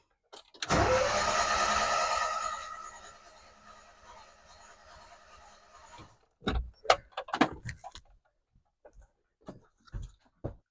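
Subaru engine fitted in a Vanagon cranking on a start attempt, a loud sustained whirring starter drone for a couple of seconds that fades, followed by scattered clicks and clunks.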